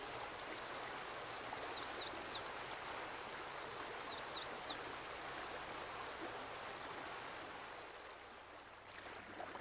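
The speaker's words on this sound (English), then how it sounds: "The Merced River runs through the heart of Yosemite Valley" The Merced River flowing through Yosemite Valley, fed by cold water from the Sierra Mountains, a steady broad rushing of running water heard at moderate distance, with a couple of faint bird chirps over it.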